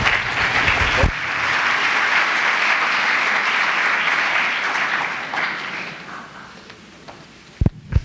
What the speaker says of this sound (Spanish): es escuchamos la ponencia del doctor Trillo, a quien recibimos también con un fuerte aplauso